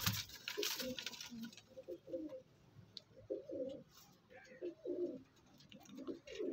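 Young high-flying pigeons cooing repeatedly in soft, low bursts, with faint pattering and rustling from the birds nearby and no talking.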